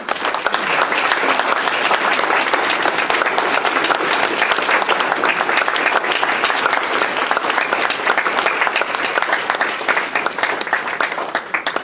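An audience at an Audie Murphy Day gathering applauds the Audie Murphy family, with dense, sustained clapping from a large crowd that holds steady for about twelve seconds and carries no speech.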